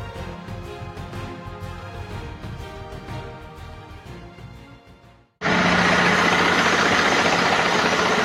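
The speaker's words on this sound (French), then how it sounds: "ce matin je fais tourner un peu le moteur parce que ça faisait bien 15 jours qu'il n'était pas en route" A vehicle engine idles after sitting unused for two weeks, first as a steady mid-level rumble that fades briefly to near silence, then returning much louder and denser as a close, continuous run.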